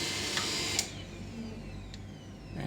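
Canon LBP 6230 laser printer powering on after a repair, with a couple of sharp clicks followed by a soft steady mechanical whir, close and without talk.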